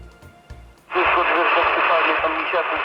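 After a quiet moment, loud hissing static bursts in from a President Jackson CB radio on SSB at low receiver sensitivity, continuing steadily with faint warbling tones in the noise.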